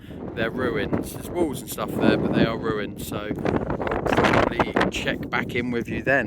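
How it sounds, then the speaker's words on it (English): Strong wind buffets the microphone outdoors on the Isles of Scilly, a loud continuous rumble and gusting roar under a person talking throughout. "But sorry about the wind. A little bit windy here."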